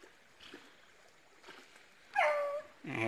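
Hunting dogs near a river give short, faint whimpers and a brief higher yelp, scattered over a quiet background of flowing water.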